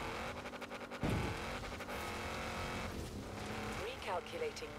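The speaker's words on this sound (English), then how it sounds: "This is such a good off-road car." An off-road car in the racing game Forza Horizon 4 drones steadily through the whole stretch, its engine roaring with brief swells and tire noise, while a voice talks over it.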